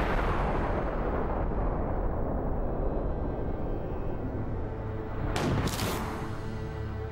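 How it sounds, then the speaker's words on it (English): A replica of Archimedes' ancient steam cannon fires a ball, producing a sustained loud, roaring hiss of venting pressure with a sharper burst near the end. "It's astonishing to think that Archimedes could have invented such an apparently modern cannon"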